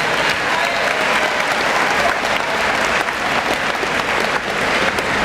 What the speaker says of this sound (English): How about a big round of applause for these great 8th graders?